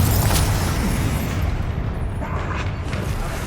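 Blasting spell explosion in the video game Hogwarts Legacy: a loud, sustained low boom and rumble with crackling bursts, fading slightly in the second half, no voices.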